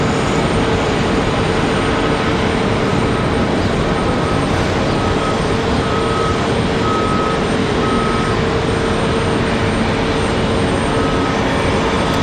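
A JetBlue Airbus A220 airliner roars steadily at Raleigh-Durham airport on a stormy day, a loud continuous engine rumble with a faint tonal whine running throughout, no voices.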